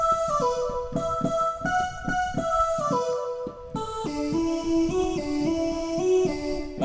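Keyboard plays the melody of a song, a simple single line over a pulsing chord rhythm, clear and close with no talk.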